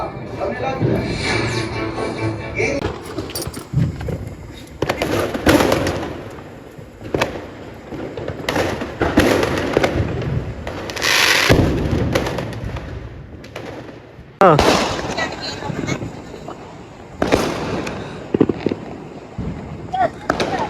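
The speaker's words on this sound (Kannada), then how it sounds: "ರಸ್ತೆಯಲ್ಲಿ ಪಟಾಕಿ ಹೊಡಿತಿದ್ರು." Sharp bursts and cracks of Deepavali firecrackers going off on the street at irregular intervals, with voices and street noise in between.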